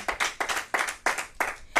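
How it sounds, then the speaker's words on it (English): Rhythmic clapping by a group, steady beats about every third of a second, fairly close and lively with no talking. "we're going to clap it up for Duke Ellington"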